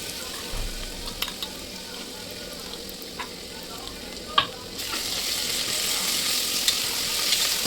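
Onions and ginger-garlic paste frying in oil for biryani, giving a low steady sizzle with occasional clicks and stirring knocks that swells brighter and louder partway through.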